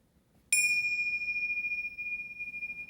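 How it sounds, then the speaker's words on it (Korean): A single meditation bell struck once at the start of a mindfulness practice session, a bright ringing tone that sustains and slowly decays over several seconds with no voices. "종소리와 함께 한번 해볼게요."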